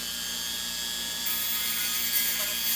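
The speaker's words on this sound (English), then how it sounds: "And I'm just going to give them a little extra filing." A small file rasps against a model railway track switch frog, a steady close hiss of filing that grows a bit louder partway through, with no talking.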